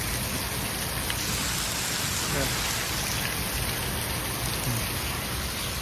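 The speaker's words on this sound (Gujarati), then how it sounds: "પવન બંધ થઈ ગયા અને વરસાદ જોરદાર ચાલુ થઈ ગયો પાછો" Steady, dense heavy rain hisses over the whole stretch after the wind has stopped, in Botad village, Gujarat, a broad wash of noise with a low rumble underneath and no voices.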